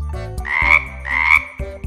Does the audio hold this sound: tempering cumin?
no